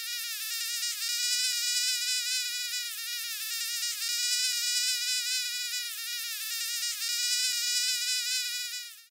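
A frog croaks in the video game Kick the Buddy with loud, close, buzzing calls that repeat in a steady rhythm and pulse without a break for several seconds.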